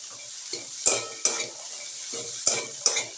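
Grated coconut and garlic are stirred and dry-roasted in a pan, with a soft sizzle beneath sharp scraping knocks of a utensil against the metal, several in quick succession.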